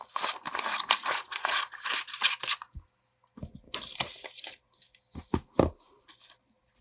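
Scissors cutting paper for a fashion illustration craft: bursts of crisp snipping and rustling up close, then a pause, then scattered sharp cuts and crinkles.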